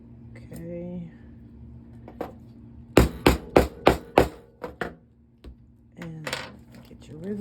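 A hammer strikes rivets into a handmade bag on a mat, a quick run of about five sharp, close metallic blows, then a few lighter taps, with a voice talking before and after.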